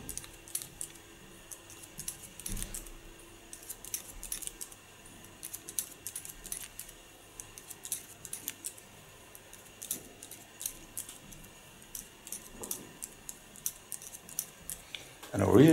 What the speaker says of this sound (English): I really love the sound of the scissors.